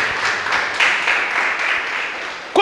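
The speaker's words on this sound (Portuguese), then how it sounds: "Aplaude ao Senhor." A church congregation applauds in a steady, dense patter of many hands clapping in rhythmic bursts, with a few voices mixed in and a brief vocal sound at the very end.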